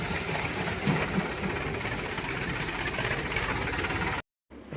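A tractor engine runs steadily at a low rumble while reversing at a stone crusher, the sound continuous and fairly loud before cutting out briefly near the end.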